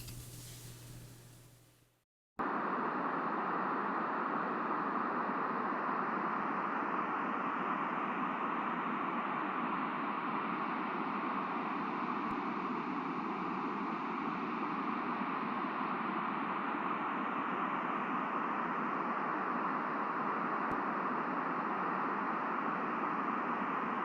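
Pink noise test signal for uBACCH calibration: a steady, even hiss that starts after a short pause and holds at constant level, alone with no voices.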